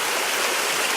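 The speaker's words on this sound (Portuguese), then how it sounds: "ao som da água correndo" Steady running water from a stream in the woods at the end of the afternoon, a continuous close rushing wash with no pauses and no voices over it.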